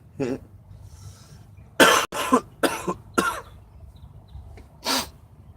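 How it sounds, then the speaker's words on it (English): Several sharp coughs close by, one early, then a quick cluster of three or four, and a final cough after a pause, with quiet room noise between. "That's why I was coughing."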